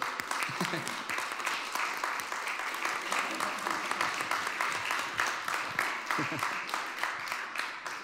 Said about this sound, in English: Let's give a round of applause to Jibril for.